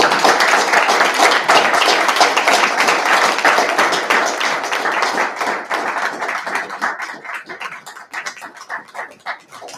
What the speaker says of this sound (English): if we could give them a round of applause so they can make their way up here